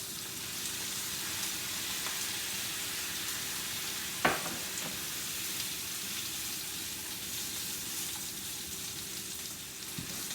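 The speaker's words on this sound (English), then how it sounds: "Now when you're cooking in cast iron and cooking a steak, that nice sear is important." Steak and mushrooms searing in a cast iron pan, seasoned with ground pepper and soy sauce, give a steady, even sizzle throughout, with one brief clink midway and no talking.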